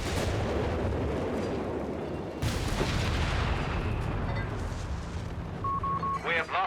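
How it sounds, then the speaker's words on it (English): Italian howitzer artillery fire in the Company of Heroes 3 war game: a deep booming shot around the middle of the clip amid ongoing battle rumble and other gunfire, with a commentator's voice talking over the action. "Ricecake preparing the Italian howitzer there"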